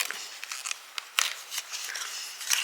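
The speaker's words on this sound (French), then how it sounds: "On prendra les mini ciseaux pour le découper." Mini scissors cut through paper for a small craft model, giving a quick run of crisp snips and rustles, close and fairly quiet, with no talking.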